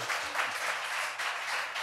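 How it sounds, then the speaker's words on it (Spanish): Studio audience applauding a couple on a Spanish-language comedy talk show, a steady dense wash of many hands clapping, fairly soft and continuous. "Un aplauso para esta pareja que ha gozado la vida."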